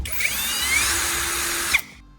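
A power drill whirs at high speed for under two seconds as it bores through a sandpaper disc, then spins down and stops.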